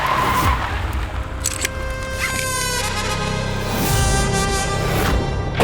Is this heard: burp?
no